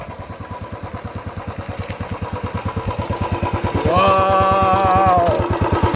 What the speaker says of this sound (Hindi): कुछ आपको फ्लाई बाइज दिखाते हैं इस बाइक के।